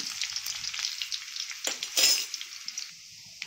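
Crushed garlic hits hot oil for a moong dal tempering and sets off a sharp, close sizzle with spattering crackles and a few light metal clinks from stirring, then it settles into a quieter fizz.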